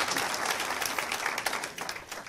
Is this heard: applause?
yes